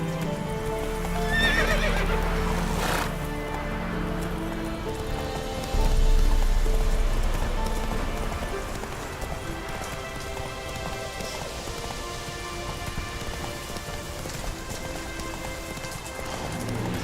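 A horse in The Witcher video game gallops with steady clip-clop hoofbeats and lets out a loud whinny early on, over a continuous rain-like wash and game music.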